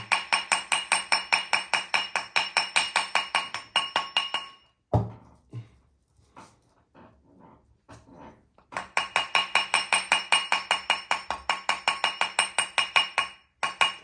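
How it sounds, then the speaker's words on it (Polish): Rapid, steady tapping of a nylon mallet on a cast gold engagement ring over a mandrel, in two long bursts separated by a pause with a few softer knocks. "Pukamy dookoła, żeby szyna była równa."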